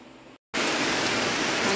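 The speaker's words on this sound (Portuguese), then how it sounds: "Engrossou mais a chuva." Rain growing heavier: after a quiet patter and a brief cut to silence, a dense, loud, steady hiss of downpour fills the rest.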